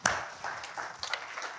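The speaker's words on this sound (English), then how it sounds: "can I give Chris a clap at the back end" A church congregation gives a short burst of applause from the back, scattered hand claps for about a second and a half, moderately close.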